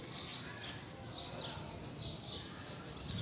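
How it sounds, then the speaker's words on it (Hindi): Birds chirp and tweet repeatedly in short bursts over a steady, noisy outdoor background, moderately faint and somewhat distant. "चिड़िया जा रही अपने घरों को वापस,"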